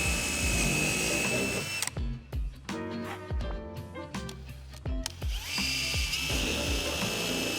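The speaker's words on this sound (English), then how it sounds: "I'm gonna drill some holes in the corners of these templates here" A power drill whines in short bursts, drilling holes in the hood of a Honda S2000, spinning up and stopping several times, with brief quiet gaps between the close, loud runs.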